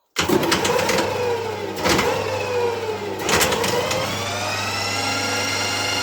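A metal lathe motor starts abruptly and winds up to 1650 rpm, a loud close whirring drone with rising tones and a couple of surges before settling into a steady spin.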